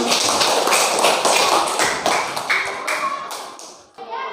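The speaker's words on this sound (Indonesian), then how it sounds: "Kasih tepuk tangan." A classroom of students claps after group presentations in an Islamic studies lesson: a burst of sharp, uneven hand claps with taps and thumps that thins out toward the end, with voices mixed in.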